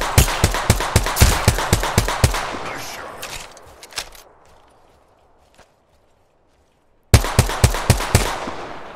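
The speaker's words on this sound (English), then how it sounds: "The enemies are shooting at me." Rapid bursts of enemy automatic gunfire in a video game, loud and close, rattling for several seconds, dropping to near silence, then resuming in sharp repeated volleys.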